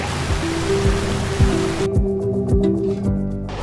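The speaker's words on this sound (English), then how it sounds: "And here's the rain." Rain falls on a via ferrata climbing route high in Colorado's San Juan Mountains as a steady broadband hiss, with soft thumps from wind or movement and a low tonal hum running underneath.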